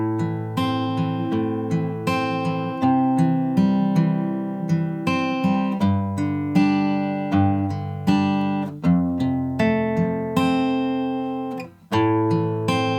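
Fingerpicked guitar plays the first verse line of a song, with rolling plucked arpeggios over sustained bass notes, close, even and unaccompanied, with a short pause near the end before the picking resumes.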